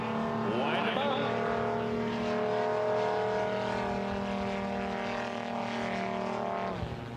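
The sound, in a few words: air race aircraft engines winding up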